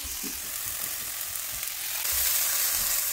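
Red onions frying in a skillet for an Italian sausage and rice dinner, an even crackling sizzle close by that swells louder partway through, without any talking.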